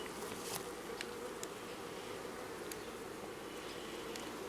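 Dense, steady drone of honey bees buzzing in an open Cedar National hive on a sticky summer day, continuous and close with faint crackles, no talk.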